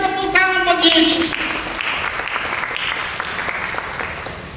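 A church congregation breaks into sustained applause, loud and close, with a voice speaking over the start before the clapping carries on and slowly fades.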